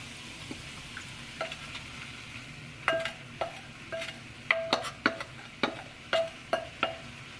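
Beef goes back into a pot for cooking: a quiet sizzle underneath with a run of sharp spoon-against-pot clinks and scrapes, about a dozen irregular knocks from close by.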